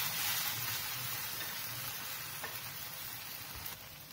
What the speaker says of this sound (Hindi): हम घी डाल के सेक रहे हैं